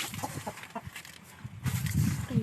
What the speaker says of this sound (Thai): นี่ครับไก่ไข่